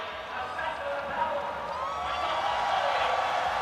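Stadium crowd at an athletics meeting before a men's sprint race, a broad steady roar of cheering and whooping that swells slightly, with a commentator's voice over it.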